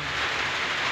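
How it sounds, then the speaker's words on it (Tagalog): Heavy rain pours down steadily, a dense, constant hiss of drops on surfaces close by, with no break or voices. "umuulan dito sa amin"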